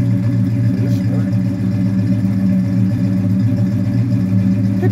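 A 1968 Oldsmobile 442 engine drones loudly and steadily close by, a deep continuous hum with slight rises in pitch rather than sharp revs.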